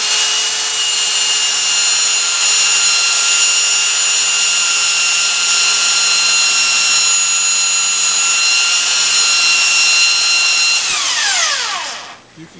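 An eraser is pressed against a clogged sanding belt running on an edge sander. A loud, steady motor whine with rubbing friction carries on, then winds down as the machine switches off at the end.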